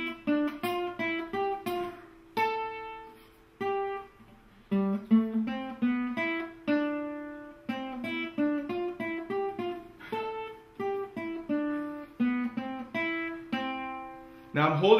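Solo guitar plays a song from a guitar method book, a single-note melody picked clearly and close up at a moderate, even pace with no talking.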